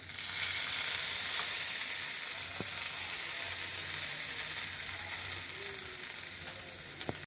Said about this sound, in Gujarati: હવે આ ગરમ ગરમ વઘારને આ રીતે હલાવી આપણે ચટણી પર નાખી દઈશું